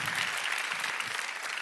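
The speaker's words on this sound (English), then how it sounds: "Round of applause for them." Audience applause at a livestreamed pitch event, steady dense clapping from a crowd throughout, fairly loud and sustained with no pauses.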